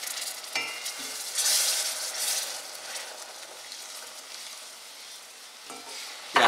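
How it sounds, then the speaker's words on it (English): Whole milk is stirred into a simmering Welsh rarebit sauce in a pan, a steady scraping, sizzling stir heard close and alone, with no talking. "now we're going to add 1 cup of whole milk"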